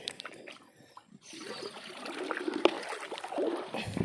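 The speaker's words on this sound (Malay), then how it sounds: "Kita tambah air sungai. Ni air sungai yang bersih ya." Clean river water poured steadily onto potted lime seedlings at a large nursery, a close continuous splashing trickle that starts after a brief quieter moment and keeps flowing.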